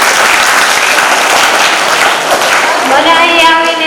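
Loud, dense applause from a school audience at a children's science fair, a continuous close wash of clapping that fades as a voice begins speaking near the end.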